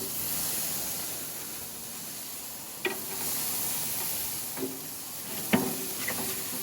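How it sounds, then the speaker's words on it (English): Steaks searing on the hot zone of a grill give a soft, steady hiss and sizzle, quiet and continuous, punctuated by a few sharp clicks and taps. "In our hot zone, we're going to sear these for a couple of minutes on each side."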